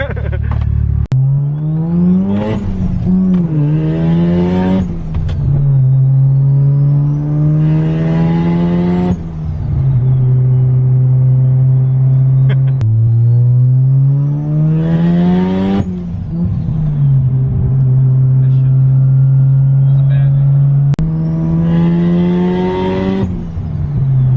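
A 400hp big-turbo Mazda RX-7 FD rotary engine revs hard, heard from inside the car, with repeated climbing pulls and drops, loud and close throughout, and faint voices underneath.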